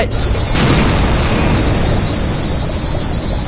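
An explosion in the survival game Stranded Deep: a sudden loud blast breaks out just after the start, then settles into a heavy, sustained rumble with a thin high ringing tone running through it.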